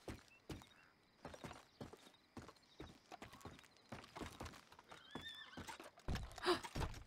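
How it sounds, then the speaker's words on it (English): Horses in the video game Red Dead Redemption 2, several short neighs and whinnies with hoof clip-clops and snorts, close and fairly quiet. "Do I hear horses?"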